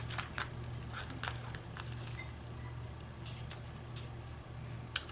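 Scissors cut through a paper Christmas shaker tag in a few quiet, crisp snips close by, over a low steady background hum.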